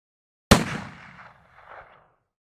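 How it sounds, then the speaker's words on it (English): A single rifle shot is fired at a range toward a target at 100 yards. One sharp crack is followed by a rumbling echo that trails off over about a second and a half. "we load the weapon and fire our first shot"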